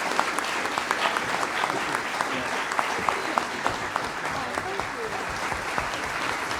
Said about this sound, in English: how about a big round of applause for our candidates?